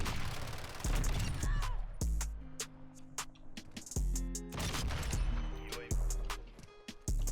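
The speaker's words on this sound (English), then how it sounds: "I love the headshot sound as well." Sniper fire and headshot hits in Modern Warfare 2: loud single shots spaced a second or two apart, each with a sharp impact and a ringing tail, over steady game noise.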